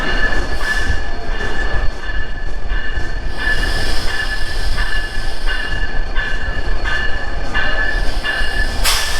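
Jahanabad Express train running on rails during its inaugural trip on the Dhaka–Khulna line, heard from aboard: a steady loud rumble with rhythmic wheel clatter and high metallic squeal tones throughout, no voices.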